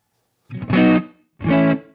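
Two distorted electric guitar chords through a Valeton GP-50 with reverb strike in succession, each ringing briefly with a short reverberant tail before fading.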